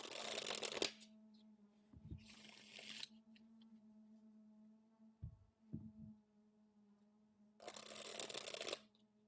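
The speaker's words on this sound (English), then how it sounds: "So I've riffle shuffled several times." Tarot cards are riffle shuffled in three quick crisp bursts at the start, middle and end, close and fairly quiet over a steady low hum, with soft handling taps between.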